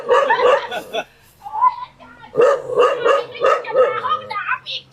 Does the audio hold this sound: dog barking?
yes